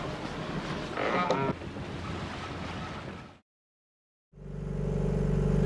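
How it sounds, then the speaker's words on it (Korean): A boat engine, just repaired, turns over and starts: after engine noise and splashing, a short silence gives way to a loud, steady low drone close by. "금방 수리를 마친 존은 엔진 시동을 하게 되고"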